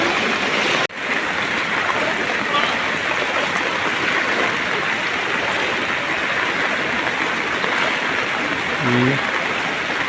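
A constant broad rush of fast-flowing floodwater fills the whole clip, loud and close, with a sharp click early on, in Kondotty, Malappuram.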